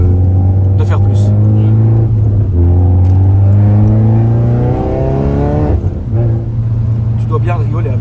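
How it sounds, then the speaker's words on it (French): A small rally car's engine drones loudly and close, with sustained revving pitches that drop briefly and then climb again. "la petite caisse de rallye"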